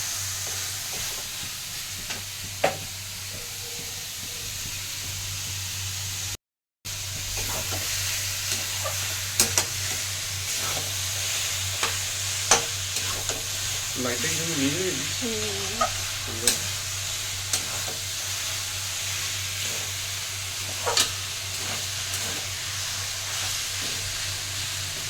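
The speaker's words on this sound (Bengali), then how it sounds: "কাঁচা খেতে ভালো লাগে কি লাগে না, তার জন্য আমরা একটুখানি কড়াই তেল দিয়ে নেড়ে নিলাম" Chicken momo filling stir-fried with a little oil in a wok, a continuous close sizzle with repeated spatula scrapes and taps spread across the stretch, broken by one brief moment of silence, no voices.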